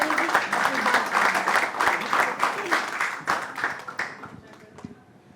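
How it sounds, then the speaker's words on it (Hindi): An audience claps to welcome Swami Dipankar at a poetry event, a steady wave of applause from a crowd that gradually thins and fades toward the end. "एक बार जोरदार तालियां हो स्वामी जी।"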